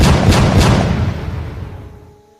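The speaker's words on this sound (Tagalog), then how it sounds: "4 na putok ang pinakawalan ni Ibo." Four loud booming gunshots in quick succession, heavy and close, with a long rumbling decay that fades out afterward.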